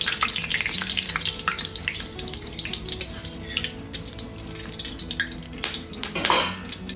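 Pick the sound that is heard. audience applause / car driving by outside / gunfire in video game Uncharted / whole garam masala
whole garam masala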